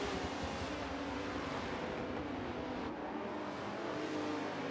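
Aston Martin and BMW race cars in a Suzuka endurance racing video game, a steady engine drone with revving and a car passing, sustained without pause.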